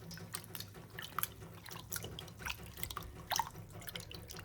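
Canned chickpeas are rinsed under cold tap water in a mixing bowl at close range, with irregular splashes and drips breaking over a quiet, steady trickle.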